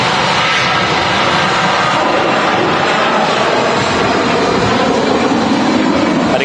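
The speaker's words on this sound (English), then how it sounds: "we've got an aircraft rolling as well" An EasyJet airliner, about eleven years old, rolls for takeoff at Manchester Airport, a steady broadband engine roar that holds loud and constant throughout with no voices over it.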